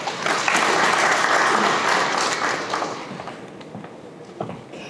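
A crowd at a ceremony in Cotonou, Benin applauds loudly and steadily, the clapping gradually thinning and fading out toward the end.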